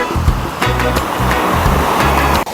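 A waterfall at Khlong Lan National Park in Kamphaeng Phet pours with a loud, steady, close roar of rushing water. Low rumbling bursts come and go beneath the constant hiss.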